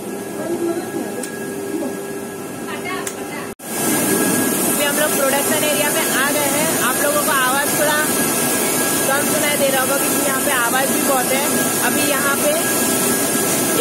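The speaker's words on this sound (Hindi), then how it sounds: "अब ये पत्ते यहाँ पे जा रहे हैं फिर यहाँ पे ग्राइंड हो रहा है" Tea-processing machinery in an Assam tea factory grinding tea leaves, a loud, continuous mechanical roar and clatter that runs steadily throughout, broken only by one brief dropout near the start, with a voice talking over it.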